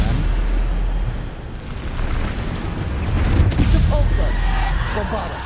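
Spell blasts land in Hogwarts Legacy, a Bombarda explosion bursting as a deep rumbling boom amid a continuous low roar of game battle noise, with a voice talking over it.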